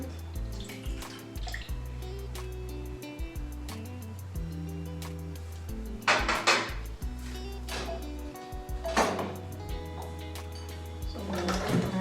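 Milk pours from a container into a blender jar for a banana strawberry smoothie, a steady liquid gush with splashy bursts, fairly close and with no talk.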